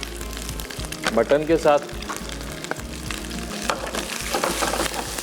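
Mutton frying with salt in a pan gives a steady sizzle and crackle, with a few clattering stirs, under someone talking throughout.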